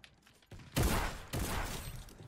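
A loud shotgun blast in Fortnite Battle Royale, followed by a second heavy burst, both close and booming over faint background noise.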